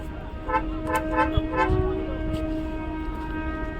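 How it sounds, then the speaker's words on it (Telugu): A train horn sounds in steady sustained tones over rumbling rail noise, with brief voices in the background. "ట్రైన్ అయితే వెళ్తుంది"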